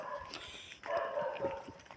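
A dog barks and yips faintly in the distance, short soft calls scattered over a steady low background.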